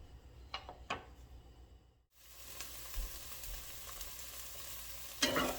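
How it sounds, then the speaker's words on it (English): Onions, scallion, thyme and Scotch bonnet pepper sizzling in a pot for Jamaican peppered shrimp, a steady close frying hiss with stirring scrapes and clinks, a louder clatter near the end. "So we're just sauteing these onions and the thyme and the Scotch bonnet pepper just for a little bit."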